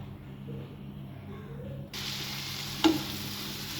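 Fish frying in mustard oil in a deep fry pan, a quiet hiss that jumps to a brighter, louder sizzle partway through, with one sharp spatter, no voices.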